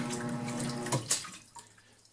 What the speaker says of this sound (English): Just water bubbling away.